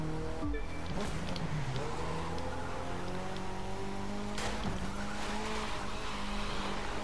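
A Mitsubishi Lancer Evolution X in the racing game The Crew 2 drives with a steady engine drone, sliding as its tires squeal and skid, continuous and loud throughout with no talking.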